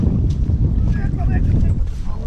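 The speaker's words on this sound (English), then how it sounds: "Oh, it's that wind, eh? The wind does that." Wind blows steadily outdoors beside a river during whitebaiting, a loud, close rumbling buffet across the microphone with gusty swells throughout.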